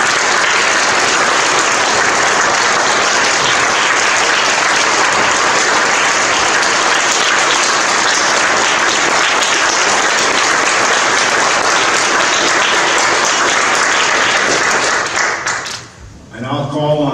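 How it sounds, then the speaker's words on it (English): Audience applause at an Eagle Scout Court of Honor for a new Eagle Scout, a dense, steady wash of many hands clapping that holds loud for about fifteen seconds, then thins and dies away into a few scattered claps. "Let's give our new Eagle Scout one more round of applause."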